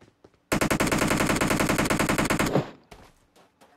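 One sustained, close, loud burst of automatic gunfire from PUBG Mobile lasts about two seconds as rapid, evenly spaced shots, then cuts off and leaves only faint sounds.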